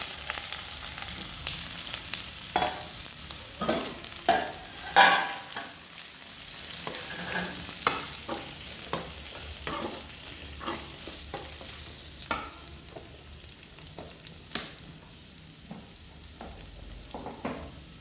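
Garlic and onions frying in a pan after mustard seeds, cumin and dried red chillies have spluttered, for a poppy seed kara kuzhambu gravy: continuous sizzling broken by frequent scraping stirs and clinks of a spoon against the pan.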